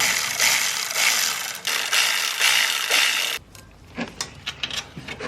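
A ratchet wrench cranks rapidly in bursts while loosening bolts during a turbo install on a Subaru WRX, close and loud for several seconds, then falls to a few sparse metallic clicks and clunks.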